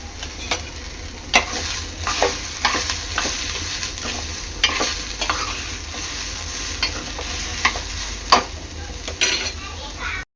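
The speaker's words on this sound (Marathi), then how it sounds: "टोमॅटो सुद्धा परतून घ्यायचा आहे तेलावर।" Tomatoes frying in oil for Maharashtrian egg curry masala, a continuous sizzle broken by repeated sharp clacks of a spoon stirring against the pan, close and fairly loud.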